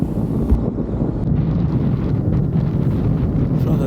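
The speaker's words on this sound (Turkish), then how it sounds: "Karşımdan acayip bir rüzgar esiyor." Steady, heavy headwind roar buffeting the microphone while riding a BMW R 1250 GS Adventure motorcycle in Japan, broadband and continuous, with a low rumble underneath throughout.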